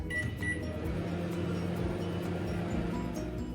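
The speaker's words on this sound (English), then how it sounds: "So I'm going to keep it in microwave and cook it for 1 minute" Low, steady mechanical hum of a microwave oven running while cooking a mug cake, with a couple of faint higher beeps or clicks near the start.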